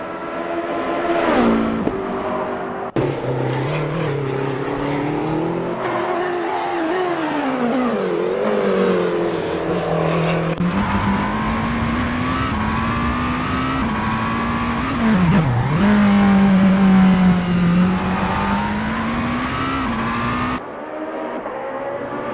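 An LMDh prototype race car on a practice out lap at Road America in Assetto Corsa, its engine droning and rising and falling in pitch through gear changes, loud and continuous with brief tire squeal.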